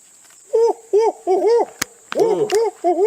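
Close, loud owl-style hoots come in a rhythmic series of about eight wavering calls, each rising and falling, with a couple of sharp clicks between them.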